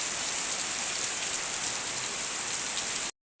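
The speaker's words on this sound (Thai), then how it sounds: "ฝนตกคักปานยัง" Heavy rain falls in a steady, dense downpour, a loud close hiss of drops drumming on surfaces that runs unbroken before cutting off abruptly at the very end.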